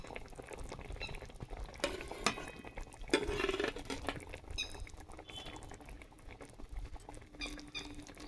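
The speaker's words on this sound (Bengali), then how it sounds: "ঝোল ফুটতে শুরু করেছে" Curry gravy for a royal nawabi egg curry bubbling and simmering in a pot, a close, soft patter of bursting bubbles with a few louder pops and stirring clinks, no talk.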